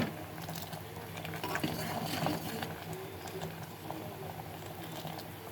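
A covered pot of lentil dal with drumsticks simmering on low heat, a soft steady bubbling patter with faint occasional clinks.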